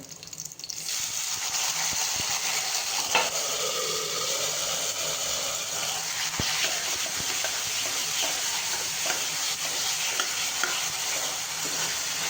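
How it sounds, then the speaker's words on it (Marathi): Curry leaves and chopped tomatoes hiss in hot tempering oil for tomato dal, a steady, close, dense sizzle running throughout, punctuated by occasional scraping clicks of a spoon stirring the pan, with no voices. "कढीपत्ता आणि लगेचच टोमॅटो घालून घेऊया"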